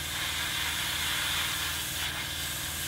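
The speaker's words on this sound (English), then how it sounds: "Spray it over." An aerosol spray can hisses steadily and close, misting a coat onto an Airfix 1/48 Hawker Sea Hurricane Mk.Ib plastic model kit in one continuous burst.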